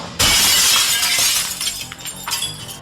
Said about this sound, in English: the sound of another shattering mirror filled the room